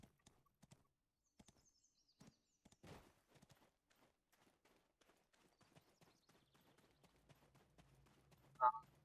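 Quiet, sparse hoofbeats from a horse walking in the video game Black Desert, irregular clops spaced out over several seconds, ending with a short, louder horse whinny.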